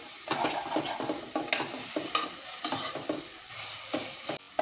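Ginger, garlic and onion sauté in a little oil while a spoon stirs them, producing a close crackling sizzle broken by frequent scraping strokes and light clinks against the pan, with no voices.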